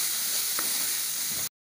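Chopped capsicum sautés in a hot pan for a vegetable biryani, giving a steady, loud sizzle with a faint scrape partway through before cutting off abruptly.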